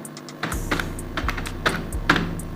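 A computer keyboard being typed on while entering data into a Microsoft Excel spreadsheet: a quick run of close, crisp key clicks with a few louder strokes, alone with no voices.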